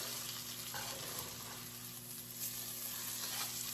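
A pot roast browns in a hot pan, a continuous quiet hissing sizzle with a faint steady hum beneath it, even and uninterrupted, with no talking.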